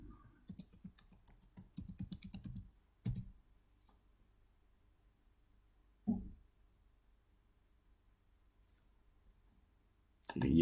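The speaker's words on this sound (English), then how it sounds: "type in the password of your" Keys tap in a quick, light flurry on a computer keyboard, close and fairly soft, followed by a long quiet stretch broken by a couple of dull thumps.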